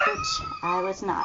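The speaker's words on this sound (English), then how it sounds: "Pardon the dog in the background." A dog howls and whimpers in the background at a modest distance, making drawn-out, wavering cries while someone talks over it.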